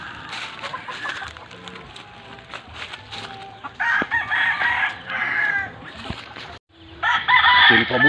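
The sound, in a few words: rooster crowing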